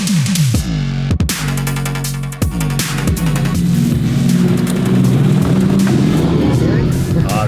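An electric AMG sports car's motor hums and surges as it drives, with a few sharp thumps early on and people talking over the steady engine tone.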